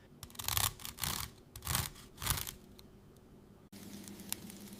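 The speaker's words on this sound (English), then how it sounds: "That sound is basically the sound of many tiny fractures happening through the crisp surface." Crispy pork crackling snaps and crunches in four close, sharp bursts of brittle fracturing, followed by a softer, quieter stretch of faint crackle.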